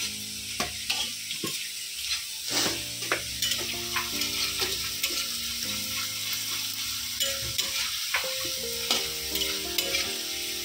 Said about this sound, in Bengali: মুখি কচুর ভাজা হচ্ছে